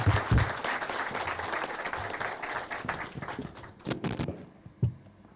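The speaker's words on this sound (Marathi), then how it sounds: "जोरदार एकदा टाळ्या वाजवल्या पाहिजे" An audience at a corporate talk by General Manoj Pande on nation building claps loudly in sustained applause that gradually thins out near the end.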